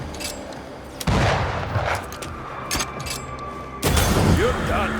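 Gunfire from a corpse enemy in Banishers: Ghosts of New Eden, with sharp, loud shots and booming bursts, one near the start and a heavier volley near the end, over game noise and some talk.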